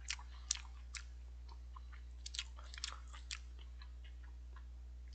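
Close, quiet chewing of meat dumplings during a meal, with a few soft wet bites and crunchy clicks scattered irregularly over a low steady hum, and no talking.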